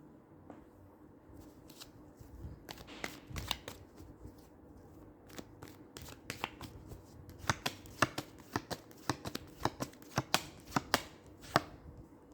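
Tarot cards being shuffled and handled up close: soft riffling and sliding, then a run of crisp, sharp card snaps and flicks that grow more frequent and louder toward the end, with no voice.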